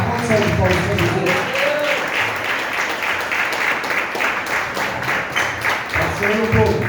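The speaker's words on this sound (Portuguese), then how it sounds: "Uma salva de palmas para Jesus" Congregation applauding at a Pentecostal church service, a steady wash of clapping from many hands with voices mixed in throughout, fairly loud and close.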